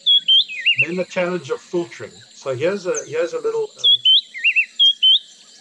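A recording of birdsong plays: repeated high chirps and warbling trills, clear and fairly loud. They are heard at the start and again near the end, with a voice talking in between.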